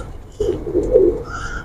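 A single male pigeon coos close by, a low soft burbling call lasting about a second over quiet background hiss.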